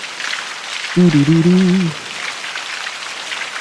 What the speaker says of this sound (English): Here's the rain sounds from Alexa Ambient Sounds.